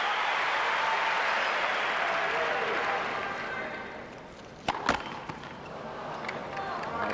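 Tennis crowd at the 2001 US Open final between Hewitt and Sampras roaring and applauding in a big stadium, a broad steady wash of cheering that gradually subsides, followed by a few sharp ball or racket hits amid murmur.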